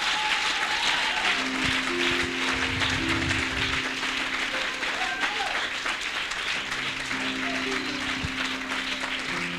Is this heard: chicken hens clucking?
no